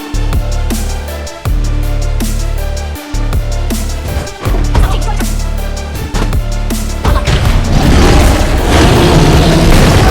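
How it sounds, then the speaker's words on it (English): A turret is destroyed in the Mobile Legends video game with a series of deep booming explosion hits at a steady pace, followed by a crackling, rumbling blast that swells loud at the end. "Team destroyed a turret!"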